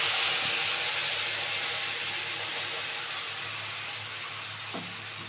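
Ground spice paste hits hot oil tempered with dried red chilli for achari brinjal, setting off a steady bright sizzling hiss that slowly fades, with no talking.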